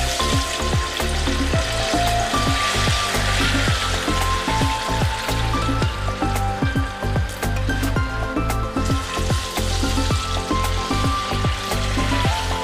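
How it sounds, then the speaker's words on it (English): Chopped plantain frying in hot oil sizzles and crackles loudly and continuously, with frequent small pops and spatters close by. "now the oil is hot, I'll be adding my plantain to fry it"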